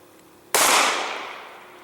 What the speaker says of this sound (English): test those in the chronograph and then shoot the gel